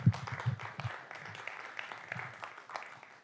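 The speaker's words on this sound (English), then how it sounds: "Give yourselves just a wonderful round of applause for valuing your health." A crowd applauds with dense, steady clapping throughout, fairly quiet and slightly distant.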